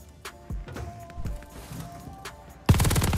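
MG42 machine gun firing in Call of Duty Vanguard, a loud dense burst of rapid automatic shots at the end after scattered game impacts and mechanical noises.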